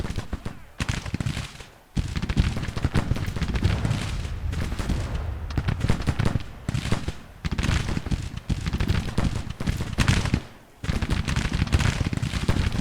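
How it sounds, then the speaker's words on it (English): Ragged musket volleys from Civil War infantry fighting Mississippians in the strategy game Grand Tactician: The Civil War. The crackling gunfire is dense and loud, rolls on in long bursts, and stops in brief gaps before resuming. "A couple good volleys and those Mississippians should be forced to fall back."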